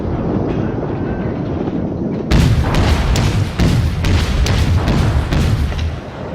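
Naval guns firing in World of Warships, booming low rumbles with a burst of rapid gunfire cracks after a quieter windy stretch, loud and close, no talk.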